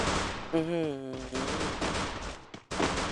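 Rapid gunfire bursts from the Free Fire battle royale game, loud broadband cracks with a brief tonal effect early on and a short gap before shooting resumes, while a voice talks over it.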